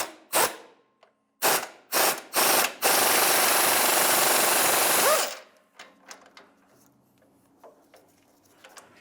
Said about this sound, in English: Now that we have that started in place, we can start tightening it